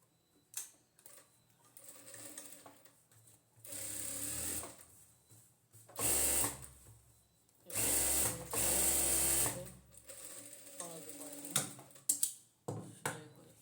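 A sewing machine sews bartacks on palazzo pants in several short bursts of fast whirring stitching, separated by quiet pauses and small handling clicks.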